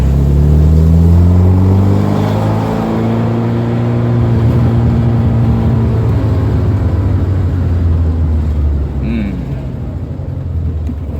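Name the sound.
1979 Alfa Romeo Alfetta 2.0 engine running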